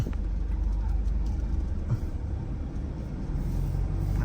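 A manual-gearbox, lifted Toyota Vigo pickup truck with 70,000 km on it drives along with a continuous low rumble of engine and road noise, heard from inside the cab with no talk.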